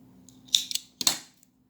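Scissors snipping through wound yarn, two distinct close cuts a moment apart, each a crisp metallic snip, with quiet around them.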